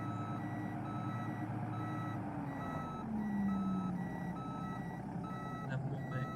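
A bus in the OMSI 2 simulator sounds a steady, evenly spaced reversing beep over a low idling engine hum; one short tonal swell rises near the middle.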